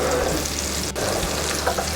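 Smashed potatoes frying in a pan, a dense, close, continuous sizzle with a brief dip partway through and a few light crackles, no speech.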